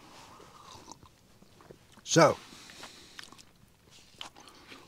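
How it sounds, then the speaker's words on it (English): Someone chewing an energy bar outdoors on a windy tor, one loud close crunchy bite standing out over faint background noise, with a brief spoken word just before. "chewing the energy bar, really."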